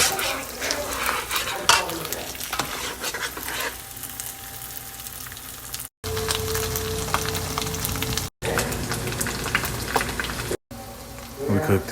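Eggs sizzle and crackle steadily in a hot pan with chicken fried rice, with occasional scraping of a utensil stirring through it.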